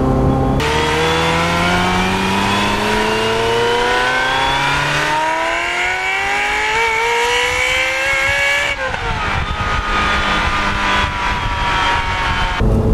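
A Ferrari 355 Berlinetta V8 engine revs hard as it pulls up through the rev range under acceleration, its rising howl climbing steadily, then dropping sharply at a gearshift before pulling again, loud and close from inside the car, with no talking.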